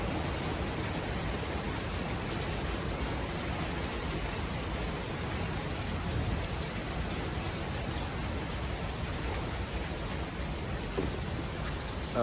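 Heavy rain pouring outdoors near GBK, a dense, steady wash of noise with no breaks, loud and close, with no voices over it.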